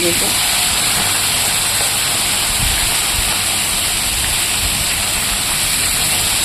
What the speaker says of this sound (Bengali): মাথাটা আগে ভেজে নিয়ে লেজাটা ভেজে নিয়ে তারপর আমি সবগুলো মাছ একইভাবে ভেজে নেব